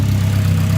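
A rebuilt car engine idles on a cold day, a steady low, even rumble that holds without change for a brief moment, loud and close with no talk.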